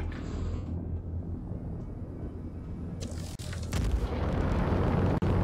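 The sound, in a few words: explosion of a shot-down torpedo in video game Star Citizen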